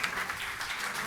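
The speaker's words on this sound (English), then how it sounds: "Give them a round of applause" Audience applause at an industry conference session, a brief burst of many hands clapping, steady and moderately loud, heard on its own.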